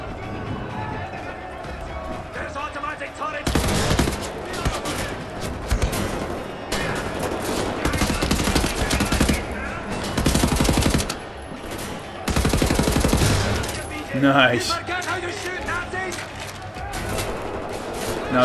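Rapid bursts of automatic gunfire from the video game Wolfenstein: The New Order, loud and sustained with brief pauses between volleys.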